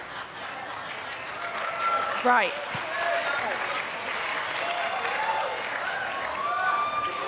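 Audience applause fills a hall during a local election candidates' question time, steady clapping from a seated crowd under a brief spoken word, with no cheering.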